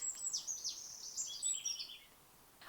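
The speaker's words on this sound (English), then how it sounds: "a small bird that's up in there in a tree, and it's decided that it is the best time to scream as loudly as they can" A small bird in a tree in an overgrown garden calls loudly and repeatedly, giving a string of high, sharp chirps and swooping notes against quiet background noise.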